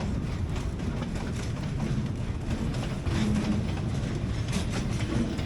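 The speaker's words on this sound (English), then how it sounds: "We've got out just to see this train passing." A loaded ore train rolls past slowly and close in the Bolivian desert, its wagons producing a steady heavy rumble with rhythmic wheel clatter throughout.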